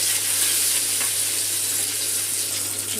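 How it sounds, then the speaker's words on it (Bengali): Tilapia fish fry in a pan of oil with a loud, bright, unbroken sizzle that stays close and even for the whole stretch, with no voices. "মাছটা ভাজা হয়ে গেছে"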